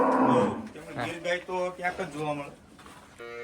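A Gir cow outside gives a loud, low moo at the start, followed by someone talking nearby with some rural background noise.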